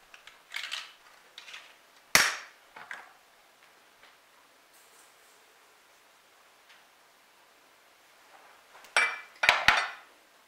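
Butter and sugar being mixed in a bowl for a Brazilian coconut cake, heard as a few scattered scrapes and clinks of a utensil against the bowl with quiet gaps between them.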